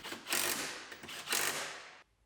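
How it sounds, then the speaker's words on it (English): Ratchet tightening a bolt on a vehicle's side mirror during reassembly, two close rapid ratcheting strokes followed by a stop. "Now we can bolt the mirror on."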